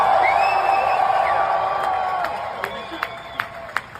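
Live audience at a screening event cheering and whooping, with a few sharp claps toward the end, while a person talks over the crowd noise.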